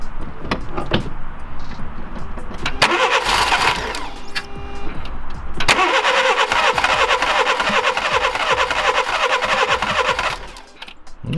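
A Volkswagen Lupo's engine cranks several times after an underbody wash, catches and runs with a steady loud hum, then cuts off near the end.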